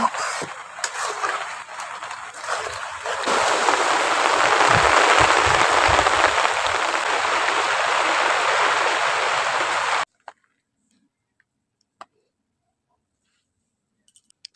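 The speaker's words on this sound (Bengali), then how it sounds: "কিছুক্ষণ এটাকে ফুটিয়ে নেব" Soybean curry simmers and sizzles in a pan with a steady, close bubbling hiss that cuts off abruptly, followed by near silence and a few faint clicks.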